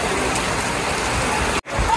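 Heavy rain pours at an outdoor cattle market, a dense constant hiss of falling water that cuts out abruptly for an instant near the end.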